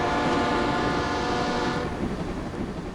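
A passenger train leaving the USSR for Finland, a loud steady rumble of railcars with a sustained horn-like tone that fades partway through, no voices.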